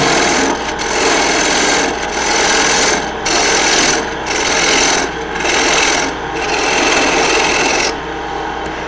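A wooden quaich, a shallow two-handled drinking bowl, spins on a lathe while a tool cuts away the tenon, a loud continuous rasping scrape that rises and falls in regular strokes about once a second, close up.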